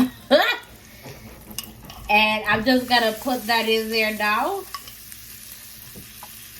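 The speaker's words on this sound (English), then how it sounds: "And as you can see, we're up to a sizzle." Lobster tails sizzle steadily in hot oil in a pan while someone talks over it, with a few utensil clinks and stirring noises near the start.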